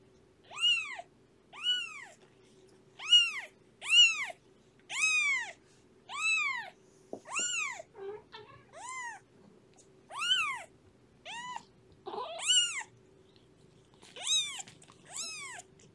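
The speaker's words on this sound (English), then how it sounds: "And when she gives that type of meow, Shelby comes running." A cat meows loudly again and again, about a dozen drawn-out, rising-and-falling cries spaced by short pauses, close and alone with a faint hum beneath.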